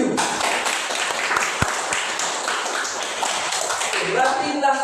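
A seventh-grade class claps together in a classroom, a steady dense patter of many hands that goes on throughout, fairly close and busy, with faint voices mixed in toward the end.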